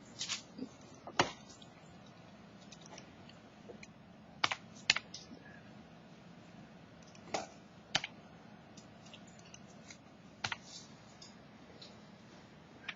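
Bursts of computer keyboard typing during a math lesson on operations on functions, irregular clusters of clicky keystrokes at moderate distance with quiet pauses between, no talk.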